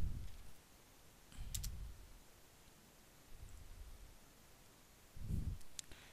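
Soft, irregular keyboard clicks as someone types at a computer, a few spaced bursts of key taps with low thumps, quiet and close over faint background hiss.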